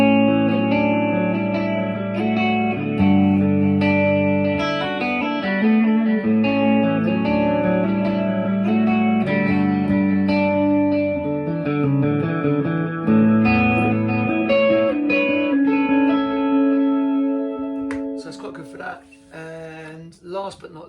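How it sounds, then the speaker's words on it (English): Electric guitar played through a reverb pedal set to a 1960s-style spring reverb, ringing chords and melodic notes with a lush wash of reverb tail, loud and close, fading into a few picked notes at the end. "at least I've got a reverb pedal,"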